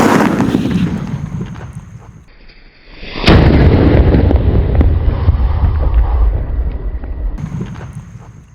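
Paper-wrapped firecracker at New Year, a sudden loud close blast followed by several seconds of rumbling, wind-buffeted roar that slowly trails off.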